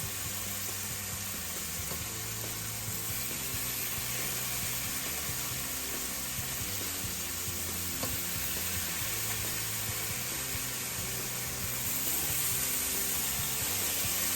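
Raw bacon slices sizzling on an overly hot griddle, a steady dense crackle and hiss that runs unbroken and fairly close throughout, with no talking.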